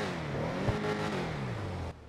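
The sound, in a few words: Karin Previon car engine revving in GTA 5 Online video game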